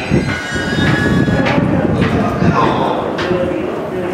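A JR Saikyo Line E233-7000 series commuter train rumbles and clatters along a busy platform at Ikebukuro Station, with a loud mechanical roar, a few squeals, and a muffled Japanese announcement voice underneath.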